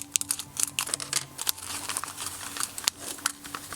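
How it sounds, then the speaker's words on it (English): A plastic bag for an LED spinner kit is cut open with scissors, giving a run of close, crisp crinkling snips and rustles across a few seconds, fairly quiet and with no talking. "So we will cut it open."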